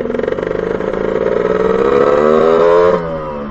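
A Lambretta scooter with a BGM RT240 engine revs hard, its pitch climbing steadily for about three seconds before easing off abruptly. Loud and close, with no talking.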